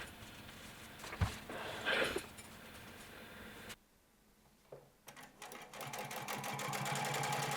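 Sewing machine top stitching a double row along the front pocket of jeans, bursts of fast mechanical whirring with a short pause midway before running steadily again.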